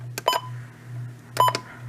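Two short electronic beeps from a Midland WR-120 radio's buttons, about a second apart, each with a brief click, heard over a steady low hum.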